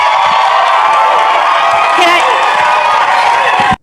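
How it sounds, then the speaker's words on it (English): Crowd at a DC mayoral forum cheering and whooping loudly, a sustained roar of shouts and clapping close by that cuts off abruptly at the end. "she got the crowd whooped up at the same time"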